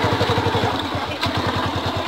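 A motorcycle engine failing to start, with a rapid, regular chugging clatter that sputters and briefly falters before resuming its uneven putter, close and loud.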